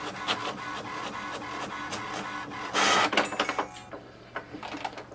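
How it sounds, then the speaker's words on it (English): An HP Envy 6032 inkjet printer runs a print job: a steady mechanical whir with repeated carriage clicks and pulses, a brief loud burst of feeding noise midway, then quieter intermittent clatter as the page finishes. "And now it will send a command for the printer to print a page."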